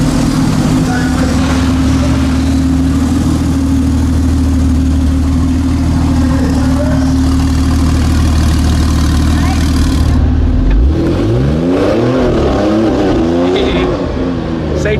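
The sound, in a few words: W Motors FENYR Super Sport car engine revving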